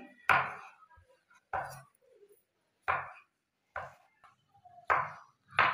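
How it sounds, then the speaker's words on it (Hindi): Knife chopping mango slices into small cubes on a board: six sharp, evenly spaced chops, close and clear, with quiet pauses between strokes and no talk. "यहाँ पे मैंने मैंगो के कुछ स्लाइसेस निकालने हैं जिनको हम क्यूब फॉर्म में कट कर लेंगे"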